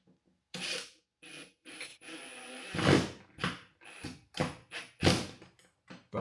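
Short bursts of an impact driver bumping a screw into a wall anchor, several brief whirring and rattling pulses separated by gaps, close.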